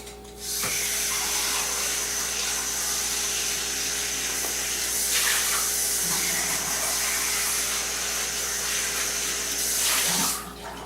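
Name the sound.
rinsing out a food processor bowl under running water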